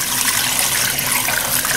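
About 5 cups of water pours into a pot in a loud, continuous gushing splash, close by and uninterrupted for the whole short stretch.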